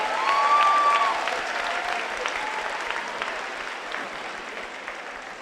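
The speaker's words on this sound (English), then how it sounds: "let's have the class of 2019 give themselves a big round of applause" A large audience of high school graduates applauding continuously at a graduation ceremony, a broad wash of clapping that stays even and gradually softens slightly.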